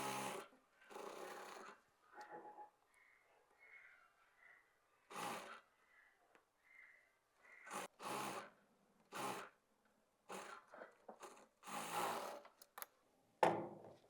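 A sewing machine stitching fabric for a double umbrella lehenga, running in short bursts of whirring with pauses between, faint and close, with no voices.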